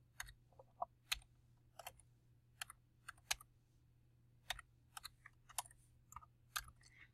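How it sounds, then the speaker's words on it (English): Keys clacking on a computer keyboard as text is entered into a research paper, irregular bursts of sharp clicks spread across the whole span, fairly close and quiet over a faint steady hum, with no talking. "So let me just type this in."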